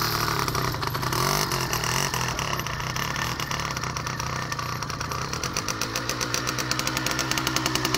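A motorcycle engine starts and runs with a steady, loud, close idle, its rapid firing pulses growing more regular toward the end.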